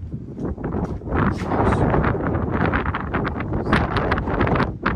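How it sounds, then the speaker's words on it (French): Strong wind buffets the microphone in continuous gusty roars, loud and rough, with no clear talking. "le vent il commence à souffler"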